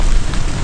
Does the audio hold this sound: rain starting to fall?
yes